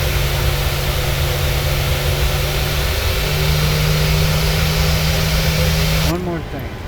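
Airliner engines running steadily as an Alaska Airlines jet taxis out for takeoff in a flight simulator game, a continuous loud low hum and whine with a tone shift midway, dropping off abruptly near the end.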